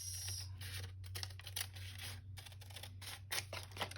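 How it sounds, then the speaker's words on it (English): Scissors trimming paper around a glued-on daisy for junk journal ephemera, giving a series of close, quiet snips and paper rustles in an irregular rhythm over a low steady hum, with no talking. "All right, let me trim around this."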